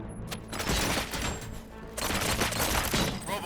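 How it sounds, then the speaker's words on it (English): Rapid gunfire from the RoboCop: Rogue City video game, a dense, loud burst of overlapping shots and booms running continuously with no pauses. "Gunshots?"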